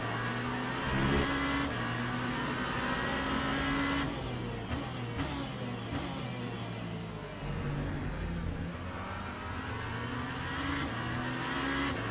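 BMW race car sliding in the Le Mans Ultimate racing game, with a steady loud engine drone, shifting revs and tire noise running continuously, with other cars nearby and no talk.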